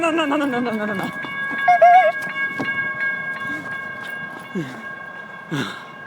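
A train rumbles by with steady horizontal tones like a horn or brake whine, and a person speaks briefly over the passing noise.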